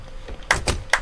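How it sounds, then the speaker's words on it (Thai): A door in the Roblox game shuts with a few quick, sharp clicks and thuds in rapid succession, close and brief. "ปิดประตูก่อน"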